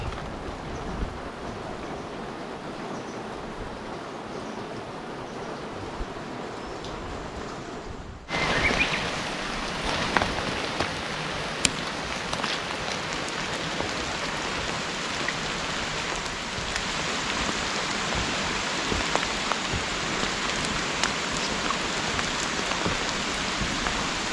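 Heavy rain pours down at Kamikochi, quieter at first and then abruptly swelling into a loud, dense, steady hiss of drops drumming on surfaces that continues without a break.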